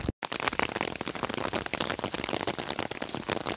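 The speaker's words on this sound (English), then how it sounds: "We are under a pouring rain." Pouring rain near a 1000-year-old medieval Italian castle patters hard and close in a dense, crackling wash that fills the whole stretch after a brief dropout at the start.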